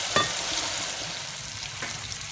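Tomatoes and masala sizzle and fry steadily in a pan for a tadka, a soft continuous crackle with a couple of brief stirring clicks near the start and end, close and without talk.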